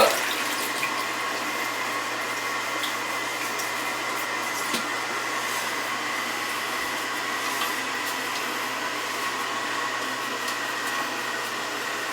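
An old toilet flushing, water squirting out of the rim holes: a steady, even rush of running water that holds for the whole stretch at moderate level, close by and without talk.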